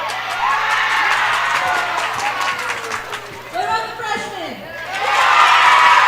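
A crowd at a school FFA Ag Olympics competition in Wessington Springs cheers and claps. The sound is a broad, sustained roar that dips midway and then swells again, with an announcer talking over it.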